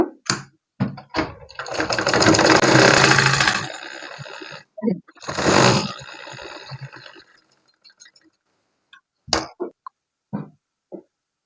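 A sewing machine stitching a layered baby frock runs in two loud bursts of rapid mechanical whirring, separated by pauses filled with clicks and handling knocks, and ends with a few scattered taps.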